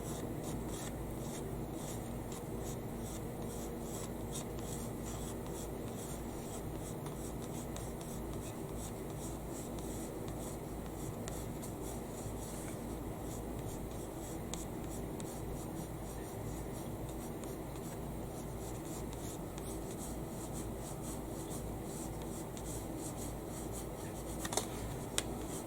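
Colored pencil scratches steadily across paper during portrait drawing, a continuous soft dry rasp of back-and-forth strokes that stays close and even throughout, with no talking.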